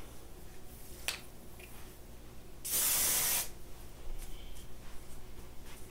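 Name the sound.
wig wax being sprayed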